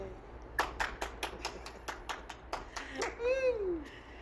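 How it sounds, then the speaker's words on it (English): Scattered single claps ring out at an outdoor rally on the steps of the Michigan State Capitol, a sparse irregular patter of one-handed claps close by, followed by a rising voice or whistle-like sweep near the end. "One-handed clap"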